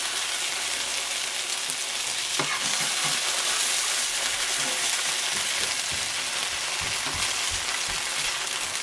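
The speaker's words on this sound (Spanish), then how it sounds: "Cada vez que vayas poniendo tortillas aquí en tu sartén, ve poniéndole un poquito de aceite para evitar que se te quemen." Tortillas sizzle and fry in oil in a pan, a steady close crackling hiss with small pops and stirring clatter throughout, no voices.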